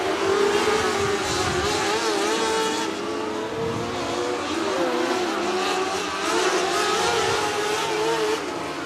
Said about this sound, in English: Kyle Melvin trying to make up ground there in the 3 as he's coming around turns 3 and 4